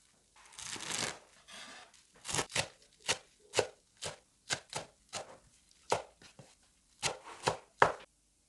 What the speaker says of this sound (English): Wash and finely chop 1 bunch of coriander.